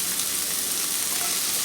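Onion frying in a pan makes a steady, even sizzling hiss, close and continuous with no talking.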